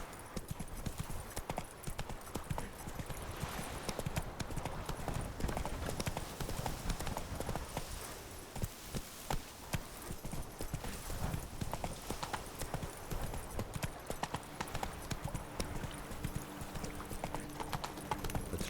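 Geralt's horse Roach runs in The Witcher 3 Blood and Wine expansion, with continuous close hoofbeats clip-clopping steadily for the whole stretch over faint background ambience.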